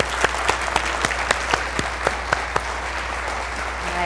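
An audience applauds the candidates after closing statements at a 2007 Ward 1 city council debate: steady clapping from a room of people, with sharper individual claps standing out, fairly loud and without talk.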